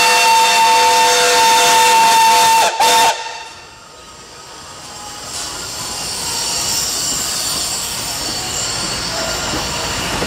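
A steam locomotive whistle sounds loud and sustained for about three seconds as the train arrives at Kerch railway station during a holiday celebration, then cuts off and gives way to a lower, steady rumble of the train and station ambience.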